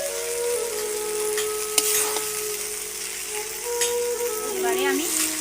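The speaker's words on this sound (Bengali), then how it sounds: "আমার কষানো হয়ে গেছে, দেখুন এইভাবে কষিয়ে নিয়েছি।" Spiced cabbage cooks in a pan for Kashmiri-style bandhakopi, a steady frying hiss with a few light clinks and stirring scrapes, close-miked, with faint tonal background sounds and no clear talk.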